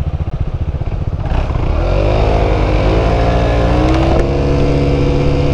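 A new motorcycle's engine idles roughly, then revs up under throttle and holds a loud, steady drone close by.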